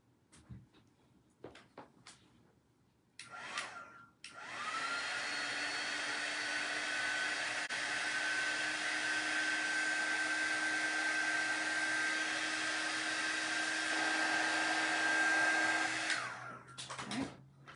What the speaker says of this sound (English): Maybe I need to put the dryer on it.